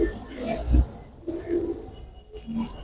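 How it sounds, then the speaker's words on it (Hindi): Insan teddy pigeons cooing close by, a few soft low coos in a row over faint background noise. "ये इंसान मेन कबूतर है"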